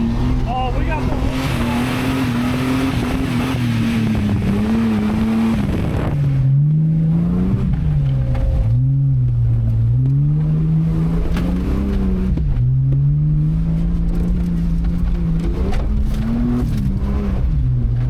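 A Jeep WJ Grand Cherokee being durability tested on a dirt track revs hard, its engine roaring close and loud, the pitch repeatedly surging and dropping over a continuous rumble.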